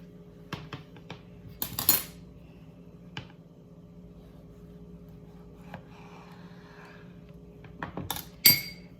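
A metal spoon scoops seeds out of an overripe Jersey Devil tomato, giving a few light clinks and scrapes, with a brighter cluster near the start and another near the end over a quiet background.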